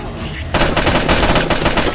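Loud, rapid machine gun fire from State of Decay Breakdown erupts after a brief lull, a continuous rattling burst of closely spaced shots carrying on to the end.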